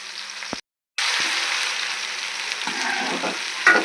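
Onions, tomatoes, green chillies and chicken sizzle loudly in a pan for chicken curry, a dense close frying hiss broken by a brief gap and a few stirring scrapes near the end.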